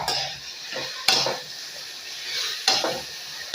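Potato and soybean paste added to a pan gives a soft sizzle, with a few sharp clinks of a utensil against the pan at intervals.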